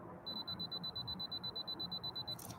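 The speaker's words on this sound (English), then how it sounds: "that's just the countdown for taking the picture" A camera countdown timer beeps a rapid, steady string of about eighteen high, even tones while photographing Mars reemerging from behind the moon, ending in a brief click; the beeps are clear and close over a quiet background.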